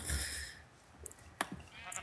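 Minecraft sheep bleat loudly at the start, followed by soft game clicks and a couple of brief sharp in-game sounds, with no talking.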